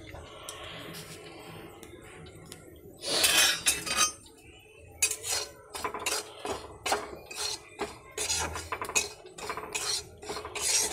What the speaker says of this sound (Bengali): এখন সুজিটা ভালো করে ভাজবো।